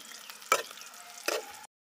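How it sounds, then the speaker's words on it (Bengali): Onion and garlic frying in oil until reddish-brown, with a soft steady sizzle under two sharp bursts of stirring, no voices. "পেঁয়াজ আর রসুন আমি লাল লাল করে ভেজে নেব।"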